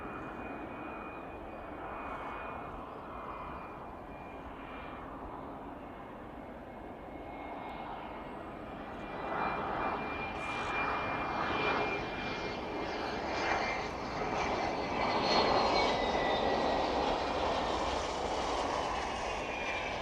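A fixed-wing airliner arriving from Newcastle roars down onto runway 09, its engine noise swelling steadily from a distant rumble to a louder, closer roar.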